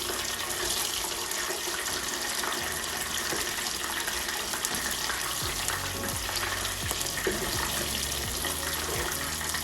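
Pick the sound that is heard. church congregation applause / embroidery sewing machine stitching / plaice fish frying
plaice fish frying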